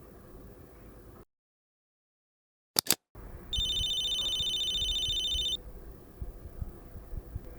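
A telephone rings at a Japanese shop with a bright electronic trill lasting about two seconds, after a short burst of clicks, over low room noise and muffled rumbling that continues once the ring stops.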